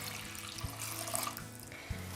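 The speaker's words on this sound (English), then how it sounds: "I'm going to cover it with cold water, but you could quite happily add hot water at this stage." Cold water runs from a tap into a pan of thick paste, a soft steady rushing stream with a faint hum beneath and a couple of low thuds.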